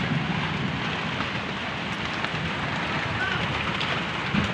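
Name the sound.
heavy rain falling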